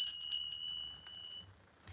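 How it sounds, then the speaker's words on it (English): A hand bell rung once, close and bright, with a clear metallic strike that rings on and fades away over about two seconds. "let me ring my bell one time for you"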